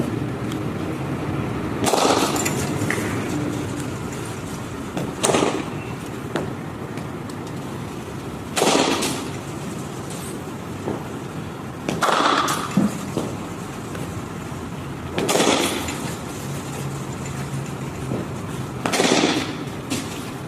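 Cricket bat striking balls during batting practice: sharp, loud single cracks spaced a few seconds apart, six in all, over a quiet outdoor background.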